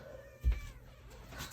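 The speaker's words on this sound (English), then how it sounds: "let me move a kitty." A cat gives a short, close meow while being picked up and moved, heard over low room noise with a soft thump.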